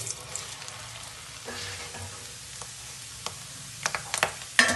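Sago pearls dropped into fully heated oil for a homemade sabudana namkeen give a steady soft sizzle with occasional sharper crackles and pops, close and alone without any voice.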